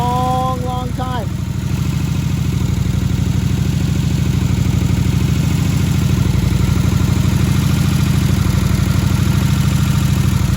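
A 2003 Kawasaki Vulcan VN1600 cruiser motorcycle engine idles steadily and close by, a continuous low rumbling throb that holds evenly for the whole stretch after a brief whine at the very start.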